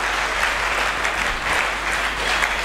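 A church congregation claps loudly and continuously in a dense, even burst of applause filling the room.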